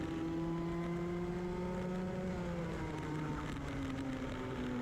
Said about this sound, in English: I'm about to get passed by, I think, what are some karts recovering from various incidents